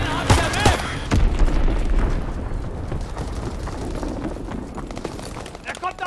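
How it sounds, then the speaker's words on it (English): A Fritz X bomb explodes in Call of Duty WWII with a loud booming blast and a rumbling tail, mixed with scattered gunfire and game voices speaking over the battle. "Dropping Fritz X-Bomb. Enemy bomb incoming."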